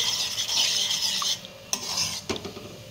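Kashmiri red chili powder being stirred into chutney in a kadhai with a spoon, a steady scraping rasp over soft sizzling, then a few sharp metal clinks near the end.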